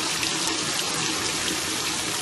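Water runs steadily in a garden water feature among gnome and troll ornaments, a continuous close splashing trickle with no speech.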